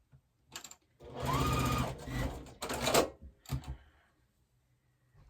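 A sewing machine stitches quilt block pieces together for a pressed flowers quilt block, running in two short bursts of rapid mechanical whirring with brief pauses and soft clicks between, fairly quiet and close with no talk.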